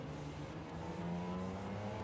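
Race cars in a Japan GT Championship race in Gran Turismo 7 run close together, with steady droning engine tones under a continuous loud roar and no talk.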